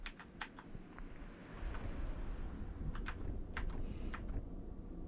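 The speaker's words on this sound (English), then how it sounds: "Oh yeah, my keyboard's so clacky." Clacky computer keyboard being typed on during an XCOM: Art of War session, a fast run of sharp clicks close by over a steady low hum, with no talk.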